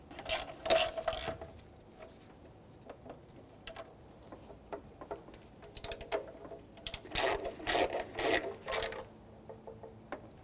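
A ratchet snugs up the O2 sensor mounting bolts on a 1994-1997 Honda Accord 2.2L L4, with quick bursts of close clicking separated by quieter pauses and no speech.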